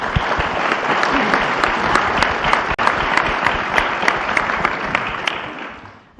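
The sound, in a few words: audience applause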